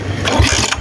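A motorcycle engine cranks and catches in a short, loud burst, rumbling up close for under a second.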